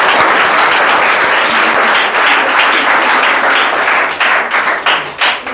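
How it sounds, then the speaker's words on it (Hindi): A classroom group gives a student named Rimjhim a loud, sustained round of applause during a school prize distribution, dense clapping steady throughout and thinning slightly toward the end. "रिमझिम के लिए जो है जोरदार से एक बार ताली दिया जाए"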